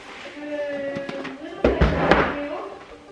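A bedroom door in a family home swings shut partway through with a firm thud and a short rattle, with a few dull knocks near it, over faint background voices and household tones.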